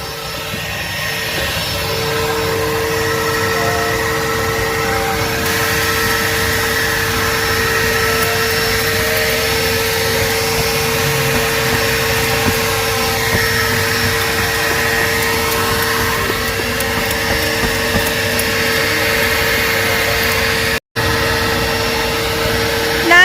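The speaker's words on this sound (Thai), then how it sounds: "อันนี้ก็คือเป็นเครื่องมือ ในการทำความสะอาดภายในรถ หรือเรียกว่าเครื่องดูดฝุ่นค่ะ" A coin-operated vacuum cleaner at a self-service car wash, used for cleaning a car interior, runs as a loud, steady roaring whoosh for the whole stretch, cutting out for a split second near the end.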